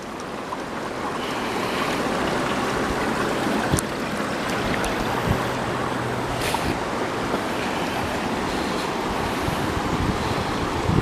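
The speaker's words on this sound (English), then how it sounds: "I love the sound of running water." Water runs steadily along a river walk, a broad continuous rushing wash with light wind buffeting on the microphone, moderately loud and unbroken, a few faint knocks scattered through.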